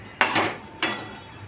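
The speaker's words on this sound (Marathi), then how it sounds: "हे जे बटाटे आहेत ते आपण या कढईमध्ये घालायचे" Cooked potatoes tipped into a metal kadhai, two sharp clanking knocks about half a second apart with a short rattling tail, close and fairly quiet, nothing else.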